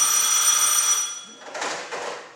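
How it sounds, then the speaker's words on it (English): A telephone bell rings loudly and continuously for about a second, then stops. Softer, muffled rustling sounds follow. "When I opened my door, the phone was ringing."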